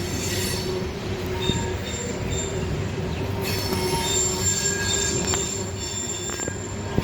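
A freight train rolls past on tracks near the James River in Richmond, its wheels squealing loudly and continuously over a steady rumble of rail cars, with no talking.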